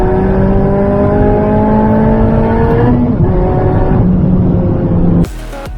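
A supercharged Mazda ND Miata accelerates hard in third gear after a downshift, its engine note climbing steadily loud and close for several seconds before a brief shift break and a sudden drop-off near the end.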